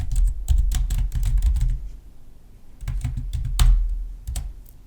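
Someone types a node label on a computer keyboard while doing color correction in DaVinci Resolve: close, crisp key clicks come in two quick bursts separated by a short pause, with no talking.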